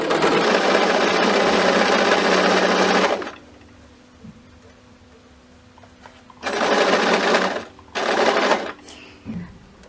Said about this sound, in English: Then lower your presser foot down, and then you're good to sew.